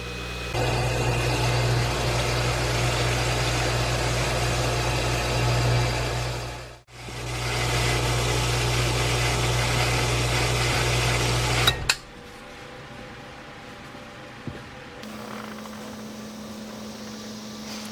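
An electric water pump for a rainwater catchment system runs with a steady motor hum and buzz, cuts briefly, resumes, then stops with a click and fades to a quieter hum.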